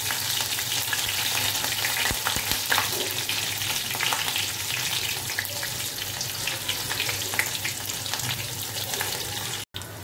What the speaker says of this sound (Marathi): मिरची सुद्धा अशी तेलामध्ये फ्राय करून घ्यायची आहे